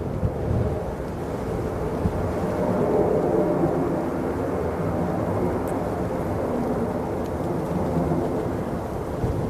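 Airliner arriving on runway 05R at Manchester Airport in the early morning, a steady, loud broadband roar with wind buffeting the microphone, sustained throughout without talk.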